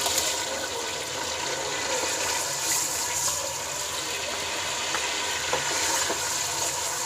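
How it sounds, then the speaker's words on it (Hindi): Tomatoes frying in hot oil in a pan for a mixed vegetable dish, giving a steady, fairly loud hiss and sizzle that runs unbroken throughout, with no talking. "ऑयल गर्म हो गया, इसमें टमाटर ऐड करने हैं।"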